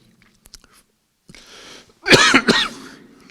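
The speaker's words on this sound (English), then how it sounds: "Like now, when I have a cough" A couple of harsh, close coughs from a man after a quiet moment with faint throat noises, sounding clearly and alone.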